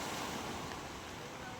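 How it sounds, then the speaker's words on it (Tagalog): Big ocean waves surge near a fish terminal in Tanza, Cavite as a loud, constant wash of surf and wind noise with no break. "Grabe namimisa ang alon."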